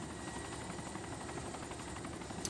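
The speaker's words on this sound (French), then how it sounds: "Faudra juste que je vois où est-ce que je dépose mon hélicoptère à la base" A helicopter in the video game Arma 2 DayZ gives a faint, steady rotor-and-engine drone with a fast, even chop throughout.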